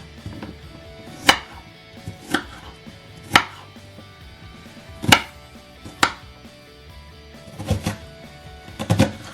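A knife chops cod curry ingredients on a board in seven or eight distinct, sharp strikes spaced irregularly about a second apart, close and clear against a quiet kitchen with no talk.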